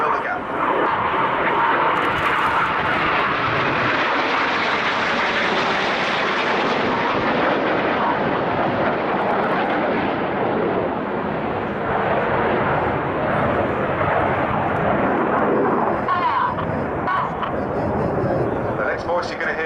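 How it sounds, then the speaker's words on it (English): Red Arrows RAF Hawk jets roar overhead during a rollback manoeuvre at an air display, inside aircraft barrel rolling around those outside, a loud continuous jet engine rush that swells and lingers for the whole stretch, with some voice mixed in beneath. "Inside pilots barrel roll around those on the outside."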